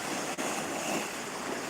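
Rough sea surf breaking along the Crimean coast, a steady broadband wash of waves with some wind noise, continuous and fairly close, with no voices.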